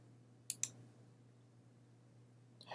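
Computer mouse button clicked on a Windows 10 Boot Camp setup, two sharp close clicks in quick succession over a faint steady hum, then another soft click at the end, with no talking.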